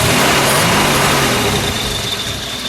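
The six-cylinder engine of a 1954 Kaiser Darrin 161 runs steadily at idle, a loud, even rumble with a dense, constant drone close by.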